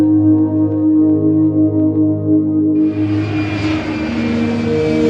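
Airliner engines hum steadily at 11,000 meters at cruising altitude, a loud, even, layered tonal drone that is joined partway through by a broadband rushing noise.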